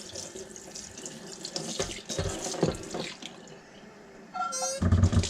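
Tap water runs and splashes into a sink as a cast iron pan is rinsed, close and steady with some clanking of the pan under the stream and a brief dripping, no voices.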